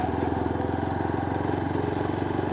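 A motorcycle engine runs steadily and smoothly close by, a continuous loud rumbling drone with fast even pulsing and no talk over it.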